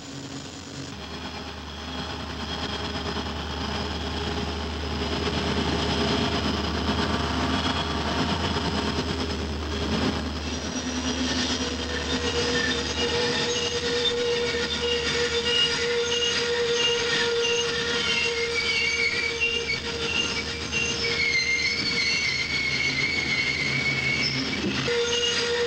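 Southern Railway train on a sharp curve of the Saluda Grade under dynamic braking, with steady loud rumble and sustained high wheel squeal against the rails throughout, continuous and close.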